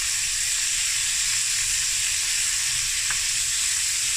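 Onion, jalapeños, garlic and a sprig of thyme fry in a pan with a loud, steady, close sizzle and hiss throughout, broken by a faint stir near the end.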